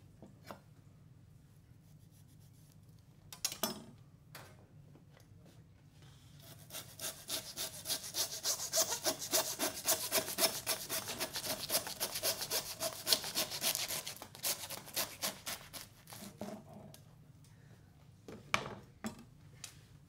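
A hand saw cuts through a lamb carcass during butchering, with a few sharp strokes at the start, then a long run of steady, rhythmic rasping strokes that stops, followed by scattered knocks and scrapes.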